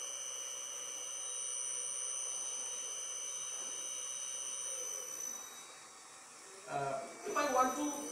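Induction motor driven in reverse at low speed by an inverter VFD, a steady tonal electrical whine and hum, joined near the end by louder, busier sound.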